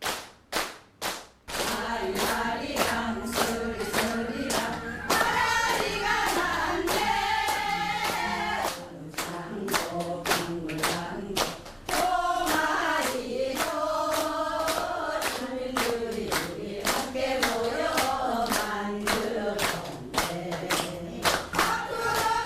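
Sharp hand claps snap out in a regular rhythm over melodic music with sustained tones, a group clapping along in time, loud and close throughout.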